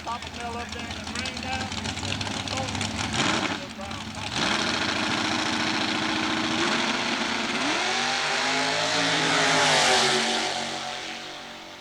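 Pro mod dragster engines at Southeastern Dragway roar loudly, with revving pitch sweeps rising and falling and a long building howl near the end, under an announcer's talk.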